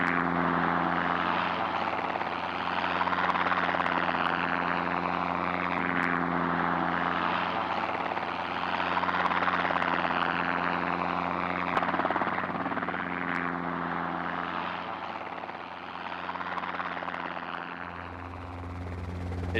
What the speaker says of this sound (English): With the helicopters and the ringers moving the cattle to the yards,